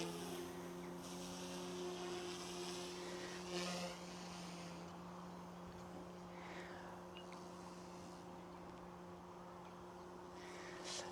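A Goosky S2 MAX RC helicopter runs in idle-up mode, its rotor giving a steady, close, high-pitched whirring drone with a low hum beneath, unbroken for the whole stretch with no talking.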